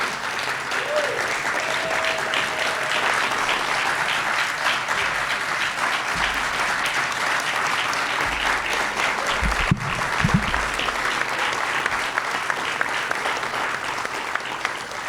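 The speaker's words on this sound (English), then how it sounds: "Let's give them a big round of applause" Sustained applause from the audience at a Juneteenth celebration honoring Living Legends Award winners, dense, even clapping filling the room for about fifteen seconds, with scattered voices and a brief knock partway through.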